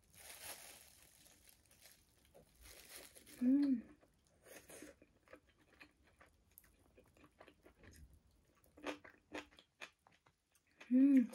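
Crispy fried tempura chicken at a Ginza tendon restaurant is bitten and chewed in a few distinct crunchy bursts, close and fairly loud, with a voice speaking softly in between.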